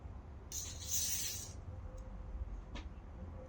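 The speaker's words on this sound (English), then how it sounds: "I spray it down in there." A spray can of WD-40 lubricant releases a one-second hissing burst, close and fairly loud, followed by faint clicks and a short second puff.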